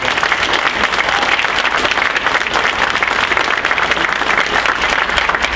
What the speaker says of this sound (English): I want to give you a big hand of applause